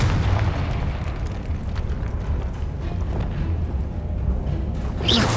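The Confringo fire spell in Hogwarts Legacy unleashes a loud, sustained low rumbling blast with crackling bursts, ending in a brief sharper hit.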